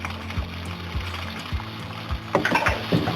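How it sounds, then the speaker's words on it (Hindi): Chicken fries in garlic ginger paste for a tindy gosht curry, with a constant sizzle under regular scraping strokes of a spoon against the pan, roughly every half second, growing busier with clinks near the end; no one speaks. "तो भी 1-2 मिनट के लिए इसमें फ्राई करेंगे।"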